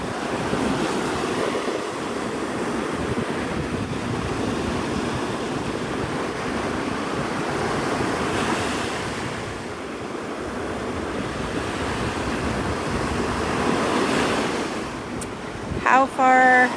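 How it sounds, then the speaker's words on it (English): Big ocean waves roll and crash on a beach in a continuous, loud roar mixed with wind buffeting the microphone, and a brief sharper sound near the end. "These are some pretty big waves."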